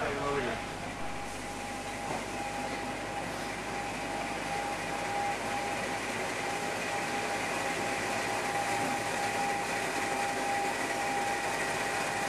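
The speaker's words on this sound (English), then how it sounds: "here we see it arriving into Ramsbottom Station, 50015 Valiant" Class 50 diesel locomotive 50015 Valiant arriving at Ramsbottom Station, a steady loud engine drone with a sustained whine and broad rumble that holds level throughout the clip, with no talking.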